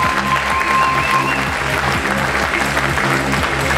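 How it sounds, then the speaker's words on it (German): Sustained audience applause at a bikini bodybuilding prejudging contest, a dense, steady wash of clapping from a large crowd that carries through the whole stretch at an even loudness, with a short tonal whistle-like sound early on. "dass ihr mal den Mädels und den Jungs mal ein bisschen Applaus spendet"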